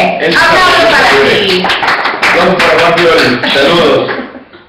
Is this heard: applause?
yes